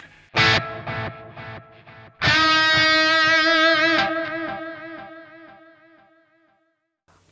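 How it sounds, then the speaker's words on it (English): Electric guitar notes through a JST Toneforge Ben Bruce plugin ring out with echoing delay repeats, then a strummed chord sustains and decays slowly in a wide, spacious stereo wash of reverb. "Hopefully you can hear the delay and the reverb."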